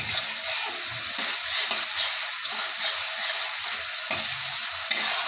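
Masala with green chillies and a pinch of salt frying for a hilsa curry, a dense continuous close sizzle with soft stirring scrapes over it, loud and steady without any voices.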